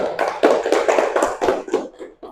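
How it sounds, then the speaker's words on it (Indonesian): A primary school class claps together in a short burst of uneven, overlapping hand claps in a classroom, loud and close, fading at the end. "Bagus, tepuk tangan."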